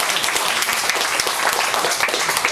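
A crowd at an evening political gathering in a McDonald's in Baclaran, Parañaque, gives a sustained round of applause, dense and loud continuous clapping throughout.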